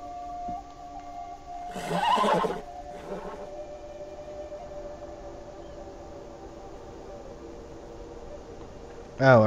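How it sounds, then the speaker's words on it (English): A horse whinnies once in a brief shrill burst in Beyond: Two Souls, followed by a shorter second call, then a steady low hum with another cry cut off at the end. "There's already two horses here."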